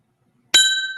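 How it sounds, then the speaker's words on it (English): A bell is struck once, a sudden bright metallic strike followed by a clear ringing tone that fades slowly after a moment of silence. "The bell of justice has sounded"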